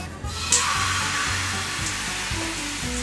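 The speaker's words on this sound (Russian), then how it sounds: "я жарю вот такие вот чудные блинчики на своей похабной сковороде, на большом огне" Steady broadband hiss of oat pancakes frying in a hot pan over high heat, continuous and fairly loud, with a few faint clicks and low hum underneath.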